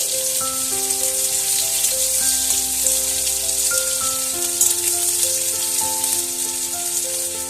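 Sliced medium onion, cut into long strips, frying in oil with dried red chilies, a steady close sizzle running throughout with faint background music tones and no voices.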